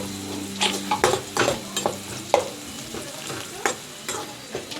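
Onions and green chilies frying in oil, a close crackling sizzle punctuated by repeated scraping stirs and clanks of a spatula against the pan, in an irregular rhythm.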